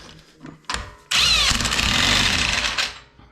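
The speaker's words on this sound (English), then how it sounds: "we're gonna go ahead and tighten this nut up" A power tool tightens the axle nut on a Subaru wheel bearing, running in one loud, sustained whirring burst of about two seconds after a few brief clicks and taps.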